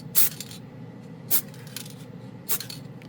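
Montana marble effect spray can spraying candy paint over a gloss black surface, three short hissing bursts spaced about a second apart, fairly close, with quiet gaps between.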